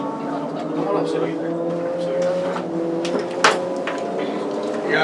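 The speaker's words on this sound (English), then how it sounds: "You gotta talk over the race cars." Race cars roar past with rising and falling engine whines, loud and close, while voices murmur in the background.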